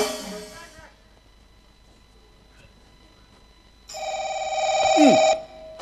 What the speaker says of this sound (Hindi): फोन आ गए रे